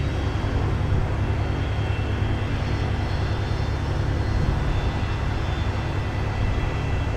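Steady, loud drone of a light airplane's engine in Flight Simulator X on a Hawaiian checkout flight, continuous and unchanging throughout with no voices.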